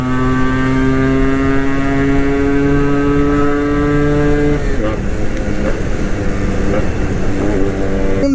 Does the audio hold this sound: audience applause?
no